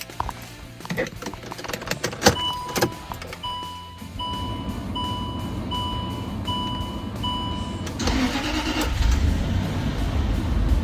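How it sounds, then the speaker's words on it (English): A Land Rover LR3 engine cranks and starts, then settles into a steady idle, with dashboard chimes ringing repeatedly in the background. "we're going to quickly start the truck up"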